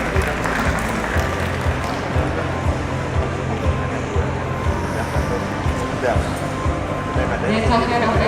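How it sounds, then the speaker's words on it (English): Audience applause at a conference on the global halal industry, with steady dense clapping rolling on continuously under a low rumble, fairly loud throughout, with speech mixed in over it. "Give a big round of applause,"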